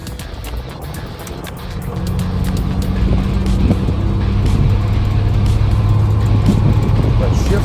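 A 1988 Jeep YJ 4x4 with an automatic transmission drives along, its engine hum rising and settling into a steady drone as it shifts, with someone talking over it.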